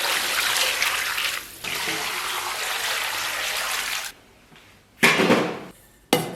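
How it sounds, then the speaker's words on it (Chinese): Blanched pork is rinsed under running clean water from a tap in a home kitchen, a steady splashing stream that stops and then restarts in two short loud bursts. "撇差不多，咱们把肉给它捞出，然后给它清水洗净。"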